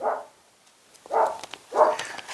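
A dog barks three times in spaced bursts, coming from a short distance away, with quiet pauses between the barks.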